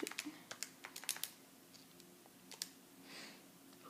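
Quick irregular clicks of keys being typed into a calculator, close and fairly quiet, a short burst of taps followed by a few scattered presses with no talking.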